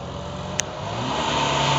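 A BMW car's engine revs hard while drifting, a steady mid-pitched engine drone that rises gradually in loudness, with a brief sharp click near the start.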